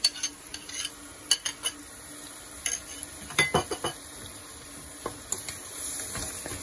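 Yogurt being stirred into tomato masala in a pot, a spoon scraping and clinking against the metal in irregular strokes over a soft background simmer, close and moderately quiet, with no voices.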